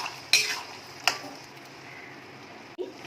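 Chicken Manchurian coated with cornflour being mixed in a pan, with a few sharp spoon knocks against the metal and soft scraping in between, close and moderately loud, no voices.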